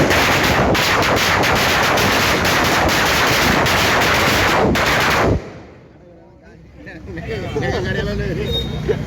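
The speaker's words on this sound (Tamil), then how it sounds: "தற்போது பட்டாசு வெடிக்கப்பட்டது" Firecrackers set off at an outdoor party birthday celebration in Tiruttani: a dense, continuous rattle of rapid loud bangs lasting about five seconds, then cutting off abruptly to quieter crowd ambience.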